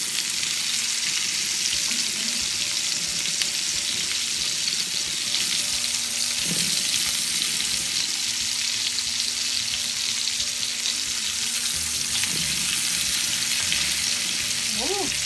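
Onion burgers sizzle and fry steadily in a pan, a constant close crackle with a few faint clinks and movements, and no talking.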